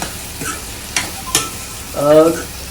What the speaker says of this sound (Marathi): त्याला पण आता कांद्यासोबत छान परतून घ्यायचं